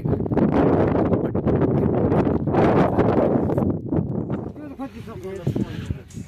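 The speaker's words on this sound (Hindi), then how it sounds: "तेज़ हवाएँ चल रही है थोड़ी सी" Strong mountain wind in the Himalayas buffets the microphone in loud rumbling gusts that ease toward the end, with a voice speaking over it.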